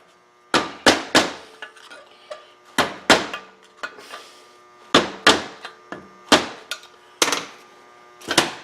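Sharp metallic hammer taps seat a snap ring into the front wheel bearing of a 2012 Hyundai Sonata, struck in quick clusters of two or three with ringing decay, close and loud over a faint hum.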